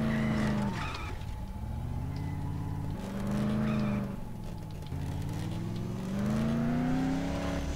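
A car in the Dead Island video game does a burnout over corpses, its engine revving loud and close in repeated rising and falling surges, with a gritty tire-spin roar under the whine.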